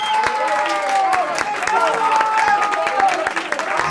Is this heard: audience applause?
yes